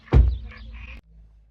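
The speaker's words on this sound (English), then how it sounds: "lots of singing frogs here" A loud, close burst of frog croaking opens, then a rough rattling call continues for about a second before cutting off to quiet background.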